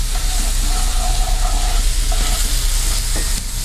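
Tomato puree and chopped tomatoes sizzle in a hot pan for a Greek dish, a steady, loud, close-up hiss with faint stirring clatter throughout and no voices.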